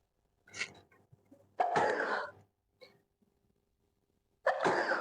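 Someone sneezes suddenly in a home kitchen while a spicy chicken gravy is being made, giving a few sharp, close bursts of breath with quiet gaps between them.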